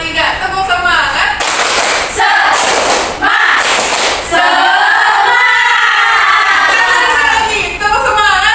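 A school class performs the rhythmic 'tepuk semangat' clapping chant during a microteaching lesson. Loud bursts of group clapping and children's shouted chanting come close together in a lively, uneven rhythm.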